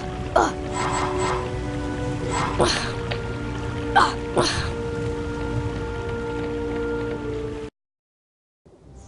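Rain ambience in the Harry Potter and the Chamber of Secrets PC game, a steady wash of falling rain with a few louder crackling bursts, cutting to silence near the end.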